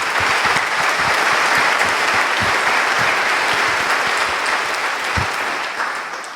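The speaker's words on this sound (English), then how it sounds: "We should clap for that." Sustained applause from a large audience, steady and full throughout, fading slightly toward the end.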